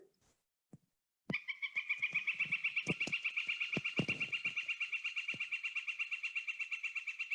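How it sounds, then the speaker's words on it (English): A long, fast run of bright wick wick calls from a northern flicker, clear and close, with a few soft knocks and thumps mixed in early on. "people tend to call those wick wick calls."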